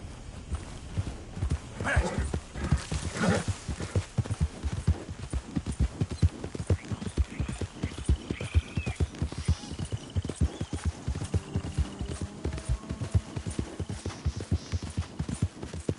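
Horse hooves clip-clop in Red Dead Redemption 2, a steady, fairly close trotting rhythm running throughout, with a brief whinny early on and a voice speaking faintly in places.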